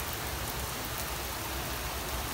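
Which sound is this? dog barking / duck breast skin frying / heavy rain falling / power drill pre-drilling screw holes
heavy rain falling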